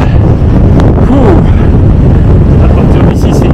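Strong wind on a Pyrenees mountain pass roars and buffets the microphone in a constant loud rumble throughout.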